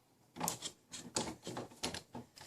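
Hand rip saw cutting through wood, a close run of rasping strokes, about six pushes in quick, slightly uneven rhythm, each a bright gritty burst.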